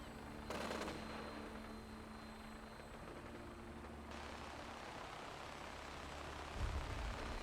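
Gunfire in the video game Fallout 4, a quiet burst of rapid shots near the start followed by a steady low hum of game ambience and a louder thud near the end.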